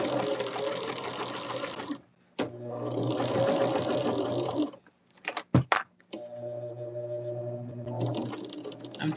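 A sewing machine stitches quilt block pieces for an Ohio Star block in close, steady whirring runs. Two longer bursts are followed by short stop-start stitches and then another sustained run.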